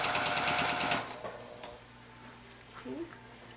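A Juki TL-2010Q sewing machine runs a quick burst of free motion quilting stitches, a rapid, even mechanical chatter for about a second before it stops and leaves quiet room tone.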